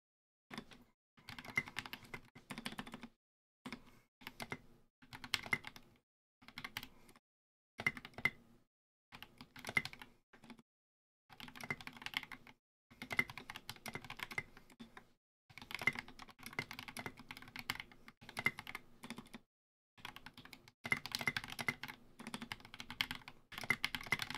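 Bursts of fast typing on a hotswap mechanical keyboard with Mill-Max sockets, Glorious linear switches and SA keycaps, steady clacking runs broken by short pauses, close and clear with no voices.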